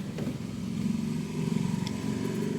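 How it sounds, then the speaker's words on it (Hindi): Ford EcoSport EcoBoost engine after an overhaul, running with a steady low mechanical drone and slight pulsing, close and continuous without any voices. "और अब मैं दिखाता हूँ आपको इसमें सेल्फ लगा के और स्टार्ट करके"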